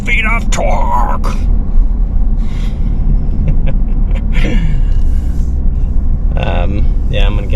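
A 2023 Ford F-350 Tremor with the high-output 6.7 PowerStroke diesel accelerates with a loud, deep, sustained rumble on knobby BF Goodrich tires, while people talk over it.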